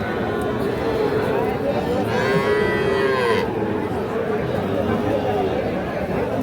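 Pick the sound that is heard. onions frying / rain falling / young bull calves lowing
young bull calves lowing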